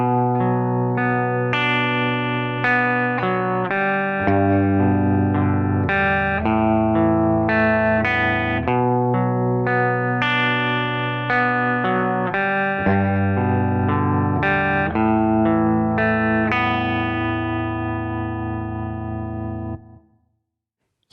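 Electric guitar with distortion and chorus effects plays two bars of the main riff from a song, a steady rhythmic chord pattern heard clearly and alone, ringing out at the end.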